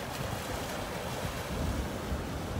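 Waves wash up onto the beach at North Naples, Florida during extreme tides, a close, steady rushing wash of surf mixed with wind buffeting the microphone.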